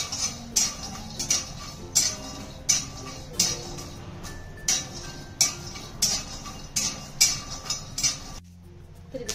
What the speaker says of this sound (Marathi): या सुद्धा आपण यासोबत भाजून घेणार आहोत.